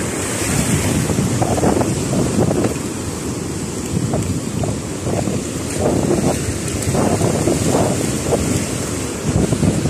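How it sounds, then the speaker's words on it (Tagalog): Ocean waves break and wash loudly on a shore in repeated surges, with strong wind buffeting the microphone throughout. "medyo po, malalakas yung alon po dito"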